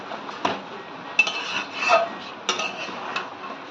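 Chicken with spices stirred in a pan, a series of metallic scrapes and clinks from a utensil against the pan over a low background hiss, with no talking.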